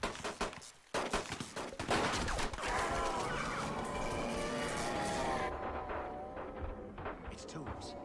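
Rapid gunfire in the Ultimate Spider-Man game on PS2 crackles in dense bursts, joined by a continuous roar of city action, with voices talking over the shooting.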